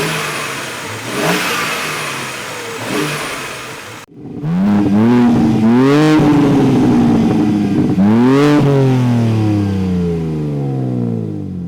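A 2023 BMW M3 xDrive Competition with its S58 engine, heard first as two muffled blips, then as close, loud revs that climb and fall several times in a row, with no talking.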